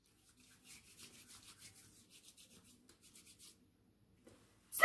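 Hands rubbing together with hand sanitizer, a soft rhythmic brushing and swishing friction that repeats steadily for several seconds at close range, then stops, followed by a brief louder knock at the very end.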